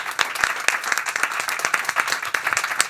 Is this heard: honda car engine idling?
no